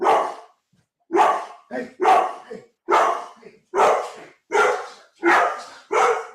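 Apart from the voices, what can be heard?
dog barking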